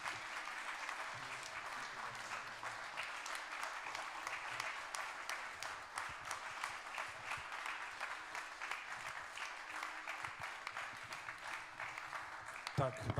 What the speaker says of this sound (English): thanking Carl Anderson with a warm round of applause